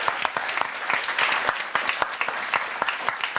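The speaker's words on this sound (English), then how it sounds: "So maybe we give him a round of applause." An audience at a science entrepreneurship symposium claps steadily, a dense patter of many hands at moderate loudness with individual sharp claps standing out, no voices over it.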